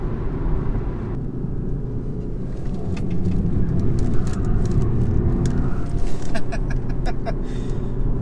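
Base-model BMW 3 Series cornering hard, its engine and road roar forming a steady, loud low rumble throughout, with faint higher mechanical ticks toward the end and no one speaking.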